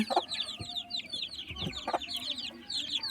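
Native hen with her chicks, soft repeated clucks from the hen mixed with rapid high peeping of the chicks, close by and continuous.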